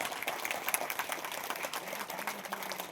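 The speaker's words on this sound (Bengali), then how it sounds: "10 সেকেন্ড ধরে একবার হাততালি প্রীতিকার জন্য" A crowd claps for Pritika in dense, continuous applause for about three seconds, bright and busy with individual claps audible, with some faint background voices underneath.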